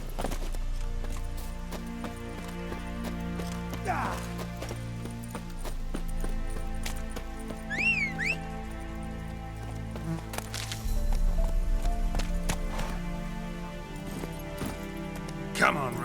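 Geralt's horse Roach galloping in The Witcher 3, a steady rhythmic clip-clop of hooves over ambient game sound, with a voice briefly calling out and a few sharp cracks.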